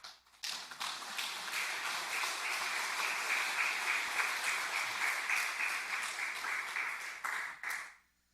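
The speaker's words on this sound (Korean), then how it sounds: "우리 축하하는 박수 한번 하도록 하겠습니다" A church congregation at a Sunday service applauds together to congratulate a newly married couple, a dense, steady round of clapping lasting several seconds before stopping abruptly.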